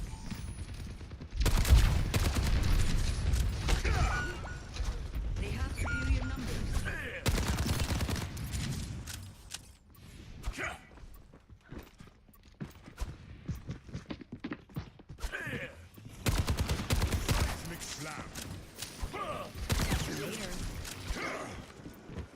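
Overwatch 2 gameplay with dense bursts of rapid gunfire and shooting, loud clustered volleys separated by quieter stretches with footsteps, while people talk over the action.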